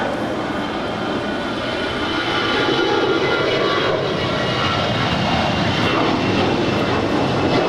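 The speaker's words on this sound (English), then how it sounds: "That is Alaska 1373 departing to Portland. It's an Airbus A320." An Alaska Airlines Airbus A320 departing Los Angeles International for Portland produces a loud, continuous jet roar with a broad rumble that swells slightly partway through and holds steady, close and without any voices.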